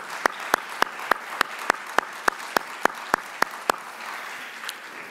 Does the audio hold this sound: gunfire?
no